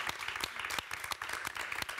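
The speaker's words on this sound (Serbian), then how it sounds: "Jedan veliki aplauz" Enthusiastic audience applause during a Serbian psychotherapy talk on emotional overeating, a dense and steady wash of many hands clapping with no pause for two seconds.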